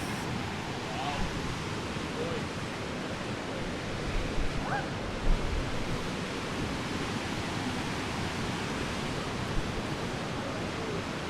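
A waterfall at an outdoor tourist spot pours as a steady, broad rushing roar that fills the whole clip, with a few faint voices and brief bumps now and then.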